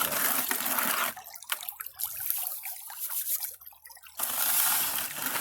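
Water flows through a gold pan as it clears out material while panning for gold, a loud steady rush at the start and end with quieter trickles and drips in between.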